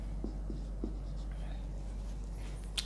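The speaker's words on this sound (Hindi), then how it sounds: "हम सबसे पहले यही लिख लेते हैं" A pen or marker writes on a board during a physics lesson on pressure differences, giving a few soft, brief scratching strokes over a steady low room hum, with a sharper tap near the end.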